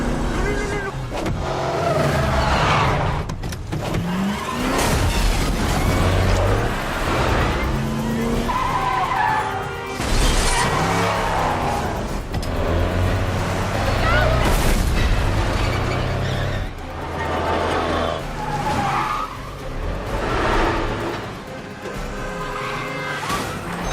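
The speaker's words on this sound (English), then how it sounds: "these cars are still hurtling by at 30 or 40 miles an hour as they come around this corner" Film stunt cars hurtle around a corner at 30 to 40 mph during a car chase, with loud engine roar, tire skids and squeals, and heavy impacts and booms throughout.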